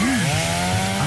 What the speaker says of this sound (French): Et c'est une tondeuse à gazon, Sébastien.